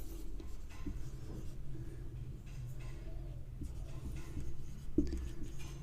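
A pen scratches out a chemical reaction by hand in soft, continuous strokes with a few sharper taps as it touches down, heard up close over a low room rumble and without speech.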